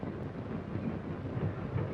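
Norfolk & Western freight cars roll down a hump yard as a faint, steady rumble with low rolling noise and some wind buffeting, with no distinct clanks standing out.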